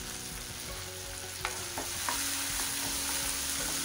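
Chopped tomatoes sizzle and fry steadily in a pan for a brinjal masala curry, with faint stirring scrapes and small taps over a constant hiss, no voices.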